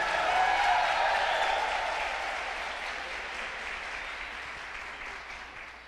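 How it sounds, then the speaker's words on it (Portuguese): A church congregation applauds during a sermon, a full, even roar of many hands clapping that starts strong and slowly fades over several seconds. "uma salva de palmas para Jesus"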